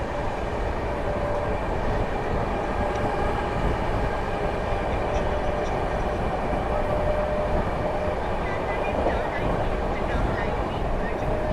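A train rolling along the railway gives a steady, loud, unbroken rumble with rail noise throughout, and voices are faintly mixed in.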